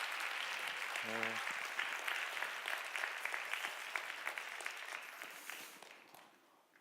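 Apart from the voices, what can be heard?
audience applause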